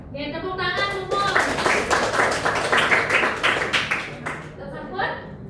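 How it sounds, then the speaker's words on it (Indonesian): A classroom claps after a group presentation, a dense, steady burst of many hands lasting several seconds, with voices talking at the start and end. "Tepuk tangan semua."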